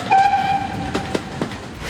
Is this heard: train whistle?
yes